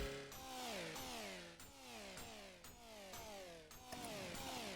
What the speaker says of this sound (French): Vous allez prendre la variante du fusil à pompe tronçonneuse et vous allez faire ça.